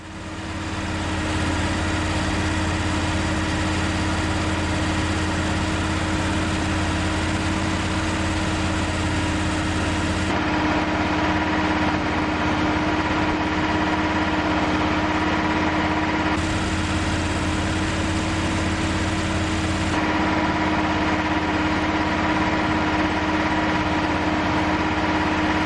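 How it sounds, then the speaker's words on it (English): Kohler Command Pro small engine running steadily at its high-speed setting, a loud continuous hum with a constant pitch that holds unbroken throughout, close by and with no talking. "With the engine running at the high-speed setting"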